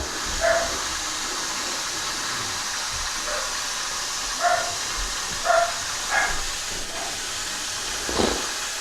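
A steam machine with a nozzle attachment hisses steadily while treating a bed frame for bed bugs, a constant close wash of sound with a few faint tonal bumps and knocks over it, no talking.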